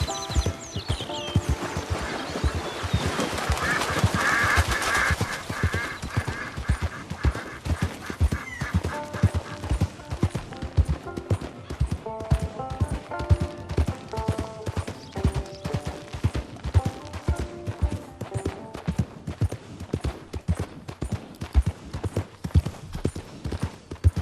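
Horse hooves clip-clop at a steady, brisk gait while riding in Red Dead Redemption 2. A brief whinny comes early, and mechanical rattling from the tack and gear runs under the rhythm.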